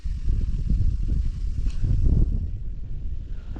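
Strong cold wind gusting across the microphone while fishing, a loud low buffeting rumble that swells and eases over a few seconds, close and unbroken with no speech.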